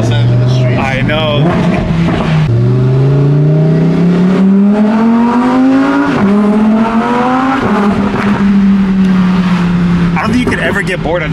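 Off-road Lamborghini engine in Rally mode, loud and close, revving up through the gears with rising pitch, then dropping at each shift, with a continuous roar and crackling throughout.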